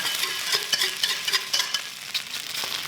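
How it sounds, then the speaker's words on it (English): An egg foo young omelette frying in a pan, a close, steady sizzle with quick scraping spatula strokes repeating every half second or so. "You're going to cook that until your egg is just over half cooked before you flip it"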